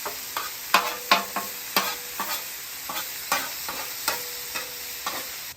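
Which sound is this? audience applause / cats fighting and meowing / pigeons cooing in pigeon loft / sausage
sausage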